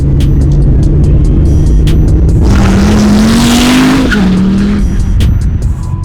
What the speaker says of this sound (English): It's not slow, but the car like loses traction.